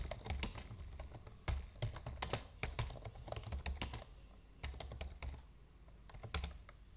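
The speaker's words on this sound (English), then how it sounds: "To install Nginx, type in the following command." Fingers typing a terminal command on a computer keyboard, a steady run of crisp, close key taps in uneven bursts with short pauses between, alone without talk.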